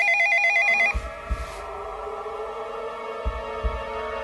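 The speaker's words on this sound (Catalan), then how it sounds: "És estrany que em toquen. Ningú té este telèfon, me el vaig canviar ahir." A telephone rings with a bright electronic trill that cuts off just under a second in, followed by low thumps and a faint sustained tone in an indoor room.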